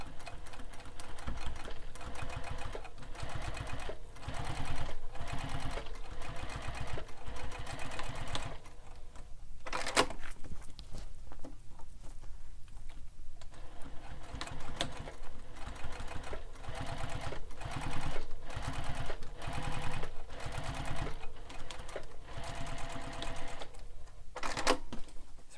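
Top stitching along bag seams, a sewing machine hums and taps in long, even runs, close by, with a short pause in the middle before stitching resumes.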